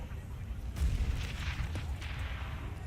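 A gunshot in Counter-Strike during a professional esports match, a single muffled burst with some low rumble, fairly faint against the game's background noise.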